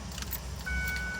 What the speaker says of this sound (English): So we managed to get the vehicle started.